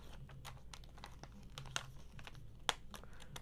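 Dollar Tree three-dimensional butterfly stickers are peeled off their backing, giving faint crinkling and soft tearing sounds with a few sharper crackles, quiet and close, with no talking.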